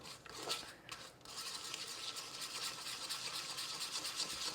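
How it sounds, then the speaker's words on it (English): A fork whisks and scrapes through cashew butter in a bowl, a steady soft rasping scratch that runs continuously for several seconds after a brief pause, close and fairly quiet. "let me just give this another quick whisk with my fork, see if I can break down some of that awesome"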